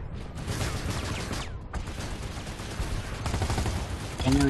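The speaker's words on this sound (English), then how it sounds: "He's now shooting at me." Gunfire in the video game Planetside 2, with a dense, continuous loud barrage of automatic weapon shots and battle noise, briefly interrupted then resuming.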